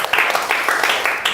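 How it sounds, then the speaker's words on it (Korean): Applause from a lecture audience during a talk on unification, a steady broadband clatter of many hands filling the short stretch, loud and continuous with slight surges. "이 환대하는 박수는 우리 여기에 오신 자기 자신을 위해서 박수를 치겠습니다"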